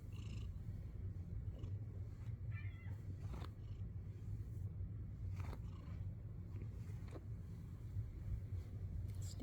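Two pet cats purr softly close by, a low continuous rumbling hum with faint rustling and small clicks over it, quiet and steady throughout.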